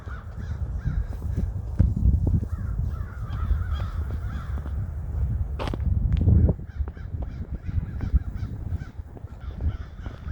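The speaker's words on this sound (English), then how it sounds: "A lot of crows around here." Crows caw repeatedly in a weedy corner of Bensalem Central Park, their harsh calls sounding over steady outdoor background noise, with no one talking.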